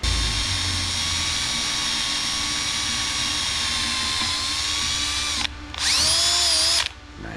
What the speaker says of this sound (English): you'll actually see kind of right where you need to drill that hole in the channel